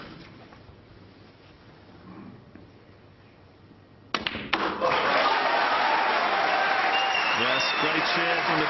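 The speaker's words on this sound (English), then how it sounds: "Great cheer from the Crucible crowd." Crucible snooker crowd breaking into loud, sustained cheering and applause, bursting in suddenly after a quiet, tense stretch and filling the hall at close range until the end.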